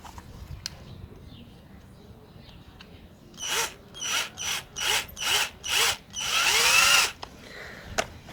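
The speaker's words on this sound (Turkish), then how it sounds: "Küçük tornavidamızla sıktık." A small screwdriver tightening a screw during trailer electrical wiring makes six short, even bursts of ratcheting, grinding clicks, close and fairly loud after a quiet stretch, followed by a longer final burst and a couple of light taps.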